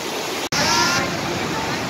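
Broad, steady roar of a large waterfall in Switzerland, with yachts sailing right up beneath it, heard close and loud and continuous apart from a momentary dropout; speech is faint or absent.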